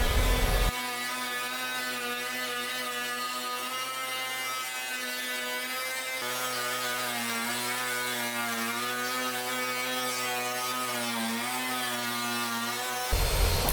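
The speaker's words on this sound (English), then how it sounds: "The key to my success is this router bit. Just taking some shallow passes." Wood router with a router bit taking shallow passes through a dresser board, a steady close high-pitched whine that holds for about twelve seconds, its pitch wobbling slightly as the cut proceeds, with no talk.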